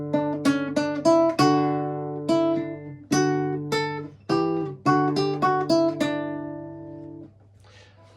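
Solo classical guitar plays the opening line of Gaspar Sanz's Paradetas, a Trinity Grade 2 piece, with clear plucked notes in a steady, unhurried rhythm, close and moderately loud, ending on a ringing note that fades.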